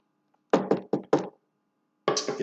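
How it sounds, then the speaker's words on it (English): Knuckles rap on a home's door: a quick run of four firm, close knocks, a pause, then another short cluster of knocks, with no voices. "Get a knock on my door"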